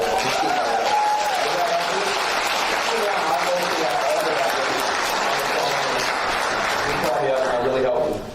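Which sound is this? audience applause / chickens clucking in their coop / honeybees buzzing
audience applause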